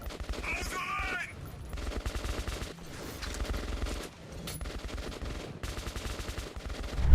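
Gunfire in a first-person shooter game: rapid bursts of automatic shots and volleys rattle in loud, dense clusters with short gaps, along with a brief voice and game effects.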